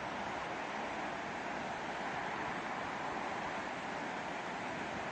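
A steady, broad rush of a fast-flowing mountain stream, the Fırtına Stream in Rize, Turkey, constant and fairly close, with no pauses or voices.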